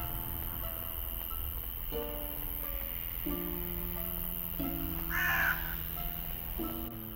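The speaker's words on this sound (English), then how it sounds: "Freaking crows, man." Crows cawing in the video game Midnight Scenes: The Nanny, a series of loud, harsh caws repeating every second or so over a constant background hiss, with no talking.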